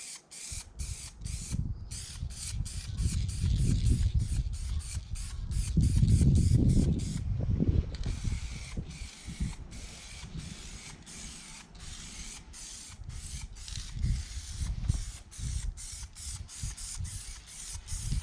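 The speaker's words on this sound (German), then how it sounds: "Ich lackiere möglichst im Kreuzgang, aber ich habe wenig Material" An aerosol can sprays paint onto a tow hitch being fitted to a Fiat Ducato Pössl 2Win Plus motorhome, with a steady hiss broken by repeated short clicks and rattles of the can, all close up.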